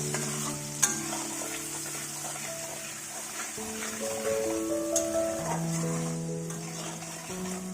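Onion fries with ginger-garlic paste and tomato in a pan, a steady close sizzle broken by stirring scrapes, with background music playing throughout.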